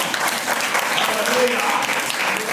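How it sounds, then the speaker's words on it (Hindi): A congregation at a Hindi-language Christian prayer service breaks into loud, sustained applause that stays dense and even from start to finish. "वो जोरदार ताली बजाओ।"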